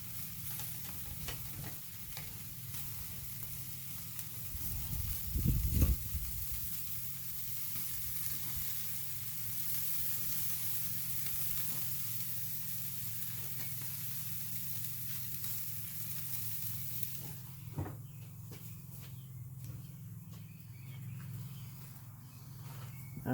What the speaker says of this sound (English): I flipped them hamburgers over one more time. Shove them towards the back, let them finish up. We're going to get that steak on there.